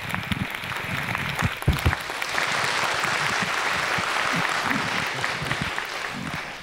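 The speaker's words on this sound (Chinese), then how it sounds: "那我们就以热烈的掌声我们一起来欢迎 白先勇白老师一起来到我们中间" Warm, sustained applause from a university lecture-hall audience welcoming a guest speaker to a Kunqu opera talk, dense and steady clapping with no voices over it.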